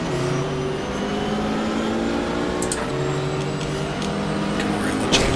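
A 1995 Porsche race car engine in the racing game GTR2 at Daytona drones steadily at high revs, holding a sustained tone with slight pitch shifts and a few faint clicks.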